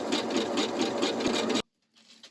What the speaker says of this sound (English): Now stitching from the right side, I am going to run my decorative stitch.